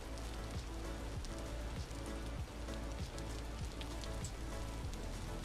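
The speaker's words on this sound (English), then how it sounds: "And this rain is loud," Steady, dense rain falls loudly in the game Vintage Story, a continuous hiss of drops hitting surfaces with no voices.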